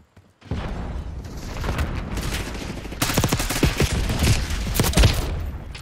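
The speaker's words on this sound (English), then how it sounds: "Ooh, that's a grenade." A grenade blast and sustained gunfire in the shooter game Black Ops 6 free-for-all: a loud boom kicks off dense, rapid rifle fire that intensifies midway, close and overwhelming, with no voices.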